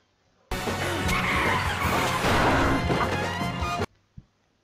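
In a cartoon episode, a truck crashes into a man: a sudden loud burst of roaring engine, skidding and smashing impact lasting a few seconds, then cut to near silence with one small knock.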